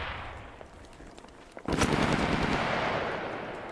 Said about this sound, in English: Kicma right now aiming at him, firing on Yoda.